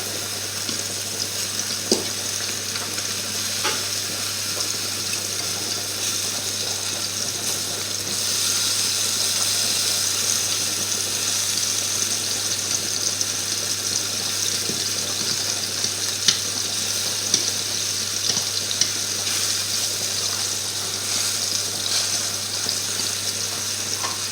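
Apple black puddings fry in a pan, a loud steady sizzling hiss, with a few soft clicks and knocks as the pieces are turned over, close throughout and without speech.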